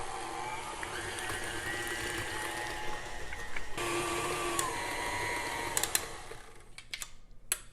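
Eggs being mixed into chocolate Oreo cookie dough with a steady electric mixer whir that shifts pitch midway, then a few clicks and knocks near the end, with no speech.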